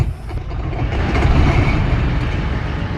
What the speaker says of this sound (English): it sounds a bit like a tracked vehicle to me.